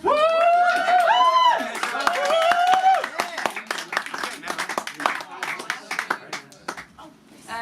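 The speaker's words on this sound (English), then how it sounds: "Can we get a round of applause for Nicky?" Audience clapping for a poet at a spoken-word night, scattered claps and cheers at first mixed with voices, thinning to a patter of individual claps that fades toward the end.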